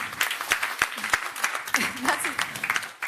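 Audience applause for a journalist at a talk, many hands clapping in an uneven patter close by, with a voice speaking over the clapping partway through.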